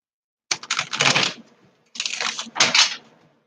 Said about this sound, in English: Get a good shuffle on these